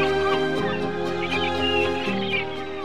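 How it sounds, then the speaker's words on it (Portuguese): Gulls calling around a busy fishing harbour packed with colourful boats in Setúbal, Portugal, a dense, continuous chorus of squawks and cries filling the scene at moderate loudness. "um constante vai e vem de gaivotas"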